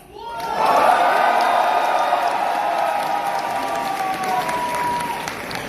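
A large crowd at the TwitchCon Paris 2023 opening ceremony bursts into loud cheering, whoops and applause that swell quickly and hold steady, with scattered shouting throughout.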